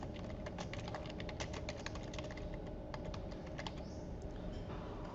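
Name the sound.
typing a name on a computer keyboard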